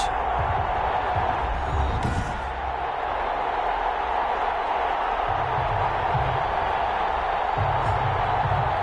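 A stadium crowd at an American football game between the Austin Armadillos and the London Bulldogs keeps up a loud, steady roar with no break, and faint voices mix into the wash of noise.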